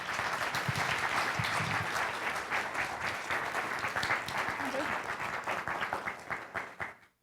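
Audience applause welcoming a professor to the stage at a college dean candidate talk, a full sustained round of clapping that thins and fades out at the end.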